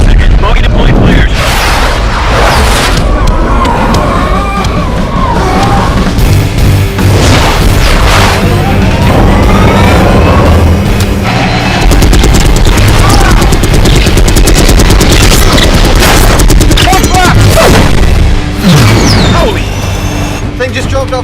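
Missile explosions and gunfire in a combat scene, heavy booms and bursts of shots layered over loud dramatic sound, with voices talking over the action.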